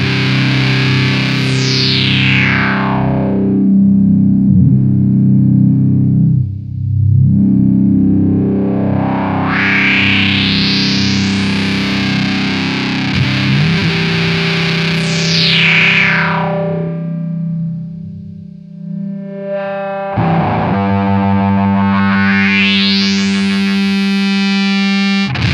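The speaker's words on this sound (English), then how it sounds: "so it kind of gives it like a wah type sound" A Mastro Valvola OFF1 octave fuzz filter pedal drives a distorted electric guitar as its filter sweeps up and down in repeated wah-like arcs, loud and alone, with held notes and a final rising sweep.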